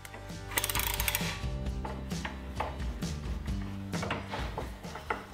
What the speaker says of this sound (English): I'll tighten the clamps up to close the gaps and get a good glue squeeze out